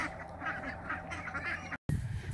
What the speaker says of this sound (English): Good luck growing anything with ducks.